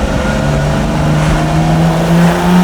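A carbureted Lamborghini Miura SV engine holds a steady, loud drone at around 4,000 RPM, its tone staying close and even throughout with a slight swell near the end.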